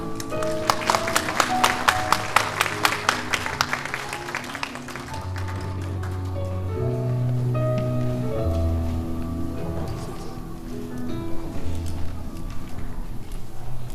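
An audience at a Korean-language speech contest applauds a presenter, with a burst of dense clapping that thins out and fades over several seconds, followed by a quieter stretch of room sound.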